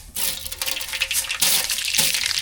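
Mustard seeds land in hot oil and crackle in a loud, bright spluttering burst that keeps popping and hissing, close up and without talking.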